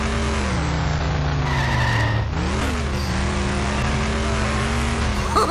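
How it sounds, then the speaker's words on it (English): A car in The Simpsons Hit & Run video game races with a constant engine drone and long tire skids, then a sudden jolt of impact midway before it speeds on, all loud and close. "by going slower I mean crashing the thing at high speed"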